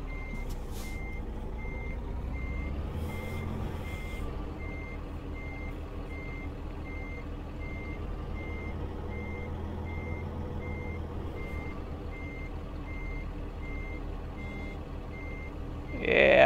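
A truck's reversing alarm beeps steadily and evenly over a constant low engine drone in American Truck Simulator, driven on an Oregon run from Eugene to Lakeview, with a louder burst of sound at the very end.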